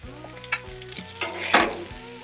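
Meat and garlic sizzling loudly on a Blackstone griddle with Thai chilies, a steady crackling fry broken by a few sharp spatula scrapes and clanks.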